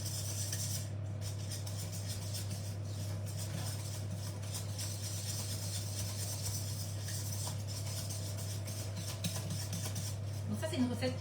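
Biscuit mixture being stirred in a bowl, heard as a continuous soft scraping and clinking of utensil against the bowl over a steady low hum, close and fairly quiet.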